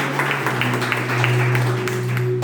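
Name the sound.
church congregation clapping hands for Jesus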